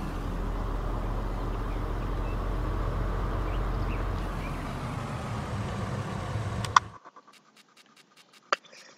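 Tractor engine from a farming video game, a steady low rumbling drone for about seven seconds that cuts off abruptly, followed by near silence with a few faint clicks.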